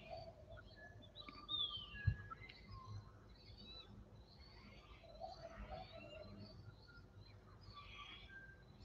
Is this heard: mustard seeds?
no